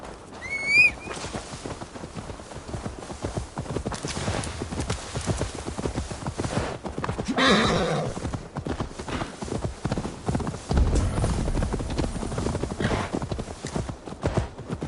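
A horse gallops in Assassin's Creed Valhalla, its hooves beating a steady, close clip-clop rhythm throughout. A short whinny is heard near the start.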